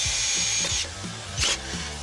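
Power drill whirring in short bursts on a house renovation site, close and loud with brief pauses and a ratcheting mechanical edge between runs.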